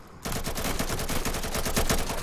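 Gunshots in Insurgency, sustained automatic fire crackling close and loud in a rapid, steady stream of rounds after a sudden start, with no talk over it.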